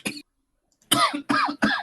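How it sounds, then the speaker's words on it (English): A short cough, a pause, then three quick harsh coughs in a row, close and fairly loud. "I know I keep coughing"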